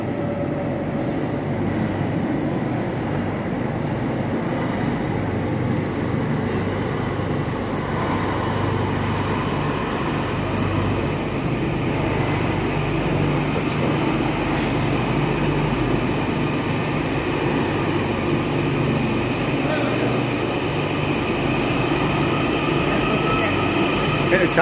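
Commercial metro train running from Jessore Road to Noapara, a continuous low rumble and hum of the carriage in motion with steady rail noise and faint voices in the background.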